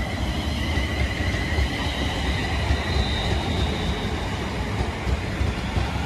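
A Class 350 electric train runs through Milton Keynes Central station during rush hour, a steady loud rumble of wheels and motors with a faint high squeal, close and continuous, no voices.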